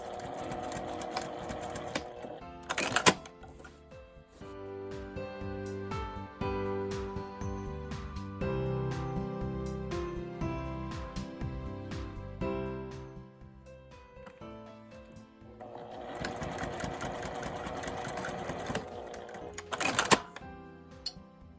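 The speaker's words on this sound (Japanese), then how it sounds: "端から7ミリくらいのところに仮縫いしておきます。" A sewing machine bastes a strap onto a tweed tote bag in rapid mechanical bursts, stopping and starting between passes, with clicks and handling noises during the pause in the middle.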